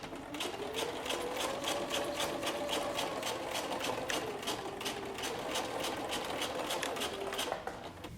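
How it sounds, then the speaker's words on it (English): A sewing machine drives a twin needle through a patch pocket, running steadily with a fast, even rhythmic clatter of stitches; faint and continuous, with no talking. "So here we have that pocket sewn down using a twin needle."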